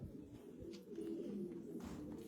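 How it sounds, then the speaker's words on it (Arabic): A pigeon coos softly in a low, rolling murmur, faint and fairly close, with a few quiet background rustles and no voices. "طلع هذا الطير ما اجمله"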